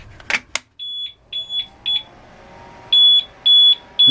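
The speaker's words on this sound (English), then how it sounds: "This thing's going to beep like crazy for a while until it runs completely dead." An APC Smart-UPS 1250 running on battery after its AC supply is cut gives a series of loud, steady electronic beeps, evenly spaced in short pulses with a few longer tones near the end, preceded by a couple of sharp clicks.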